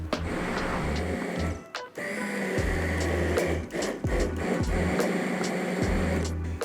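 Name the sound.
blender pureeing salmon and leek cream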